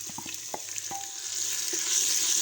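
Green chillies and garlic added to hot ghee over lightly browned onions in a pan, starting with a few stirring clicks before a steady, rising sizzle of frying takes over, close and without speech.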